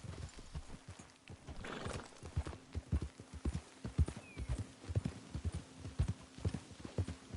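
Horse hooves clip-clop in a steady walking rhythm in the Red Dead Redemption 2 video game, close and distinct over a low ambient hum, with a brief whinny early on.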